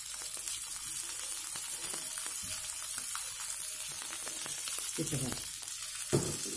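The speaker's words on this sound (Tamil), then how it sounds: "இப்போ பாருங்க டேஸ்ட்டாக பிச்சு நல்லா கரெக்டாக ஃப்ரை ஆகிடுச்சு." Fish fillets sizzle steadily in a pan of hot oil, a constant dense crackle with occasional louder bursts and stirring scrapes, while a voice speaks briefly over it.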